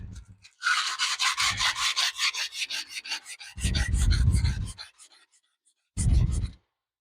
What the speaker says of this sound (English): I may sand on the end of this just a little bit more.